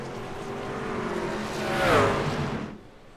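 A pace car in a racing video game drives down the back straightaway at Daytona in a truck race. Its engine drone swells to a peak as it passes close by, then fades and stops abruptly.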